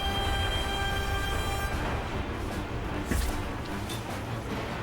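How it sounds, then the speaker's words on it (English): Armored train boss from the video game Lost Odyssey, a steady loud mechanical rumble with a held tonal hiss that cuts off partway, then continued rolling noise and a brief clank. "Armored train!"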